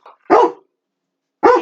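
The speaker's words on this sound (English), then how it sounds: "We don't even know what they were barking about." Two loud, close dog barks, separated by about a second of silence, with a faint yip just before the first, and no talking.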